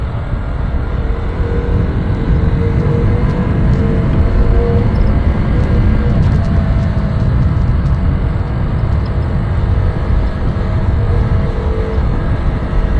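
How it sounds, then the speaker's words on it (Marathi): A loud vehicle engine, apparently fitted with an aftermarket exhaust, roars steadily and close by with a dense, unbroken rumble throughout, no voices over it. "गाडीचा आवाज बघा ना कसा येतो. एकदम लाऊड. असं वाटतं की एक्झॉस्ट लावलाय."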